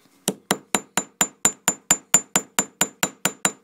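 A small hammer taps a metal earring laid under a paper towel to texture it, giving about fourteen crisp, evenly spaced strikes at a steady rhythm, close and clear with no talking.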